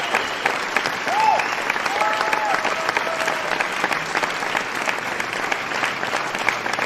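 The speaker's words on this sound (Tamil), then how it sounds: "அவர்களுக்கு ஒரு பெரிய கைத்தட்டல்." Steady, dense applause from a large audience at a live concert, continuous and full throughout with no pauses.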